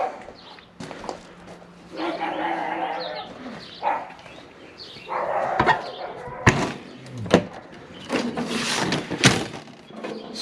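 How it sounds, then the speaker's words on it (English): The door of a Winnebago Micro Minnie travel trailer swings shut with a few sharp, close clunks and bangs, mixed with shuffling and a dog's noises nearby. "And if we close the door"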